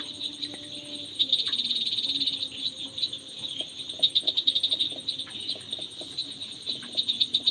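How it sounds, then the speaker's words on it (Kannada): Frogs croak at night in a dense outdoor chorus, rhythmic repeated calls under a steady high insect trill from crickets, with faint birdlike chirps mixed in. "ಕಪ್ಪೆ ಸೌಂಡ್ ಕೇಳುತ್ತೆ"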